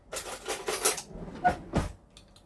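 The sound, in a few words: getting a spoon from cutlery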